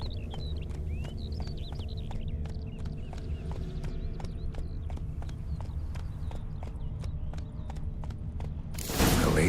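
A horse gallops in The Witcher 3 video game, its hooves drumming in a rapid, steady rhythm over a low ambient bed, with chirping birds above and a burst of noise at the very end.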